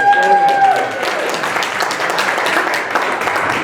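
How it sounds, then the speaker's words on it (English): Clapping from an audience at an organizers' gathering, a steady moderate wash of hands following a brief tone, with talk faintly mixed in. "it's okay to clap"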